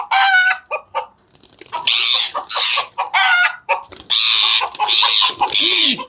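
Chickens and a rooster in a pet house pen cluck and squawk in agitated bursts, loud and close, with brief crowing-like calls throughout.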